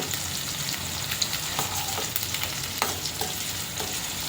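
Garlic and onions fry in a pan with a continuous sizzle, broken by occasional clicks and scrapes from stirring, close and fairly loud.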